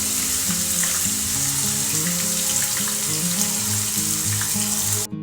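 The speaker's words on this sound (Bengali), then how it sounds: "এরপর পেঁয়াজগুলোকে আমি তেলে দিয়ে দেব।" Sliced onions hit hot oil on a medium flame for a Mughlai chicken curry, giving a loud, steady, continuous sizzle with a low tonal hum beneath it that ends abruptly.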